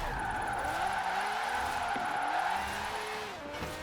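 Car in Forza Horizon 4 oversteering and sliding sideways, with a steady engine drone under a long tire squeal whose pitch bends and wavers as the angle changes, continuous and fairly close throughout.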